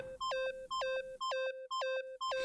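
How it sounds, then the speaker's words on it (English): Beeping from the video game Danganronpa: Trigger Happy Havoc: five identical bursts of bright electronic beeps in a steady, even rhythm, loud and clear with no voices. "Stop that goddamn beeping and say something!"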